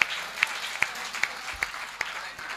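Sparse audience applause at a gathering honoring Mahendra Sharma, with a handful of sharp individual claps at a steady beat over a faint room hum, and a voice briefly audible underneath.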